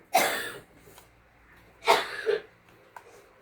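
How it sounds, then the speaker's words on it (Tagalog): Two separate bursts of coughing, a sharp hack at the start and a double cough about two seconds later, close up with quiet between. "Inuubo ka eh"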